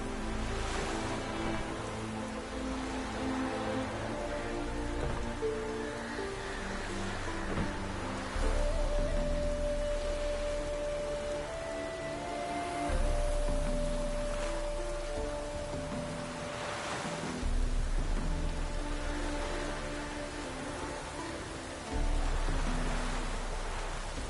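Steady rain falling in a rural village setting in Witcher 3, a soft continuous patter with faint low rumbles and brief tonal ambient sounds, no voices.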